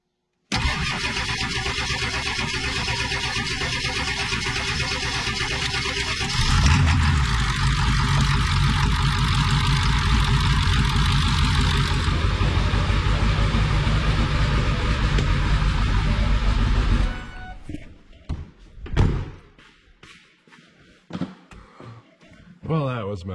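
A diesel engine cranks and catches after an injector swap, running loud and steady close by for about seventeen seconds before cutting off, leaving scattered clanks and rattles.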